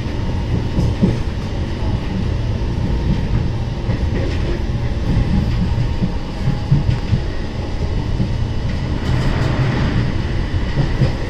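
Deccan Queen train with a Vistadome coach running at speed through the Khandala ghats between Pune and Mumbai, a loud, continuous rumble of wheels and carriage with faint rhythmic clatter, heard from inside.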